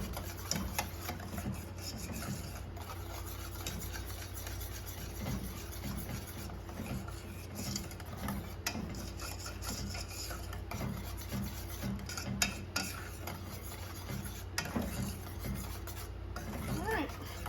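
A chocolate mousse mixture with sugar is stirred in a bowl, making a steady, continuous rasping scrape close by for the whole stretch with no pauses.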